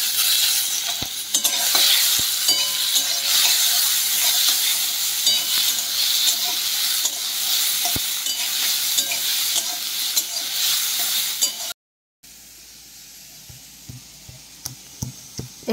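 Onions, two green chillies and a piece of tomato fry in oil over low heat, giving a steady loud sizzle with stirring scrapes throughout and a brief break near the end.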